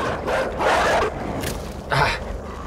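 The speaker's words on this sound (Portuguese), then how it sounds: "Tinha outro cachorro vindo." Dog barking in the side-scrolling game Inside, a few loud, rough bursts in quick succession over a steady low rumble of game ambience.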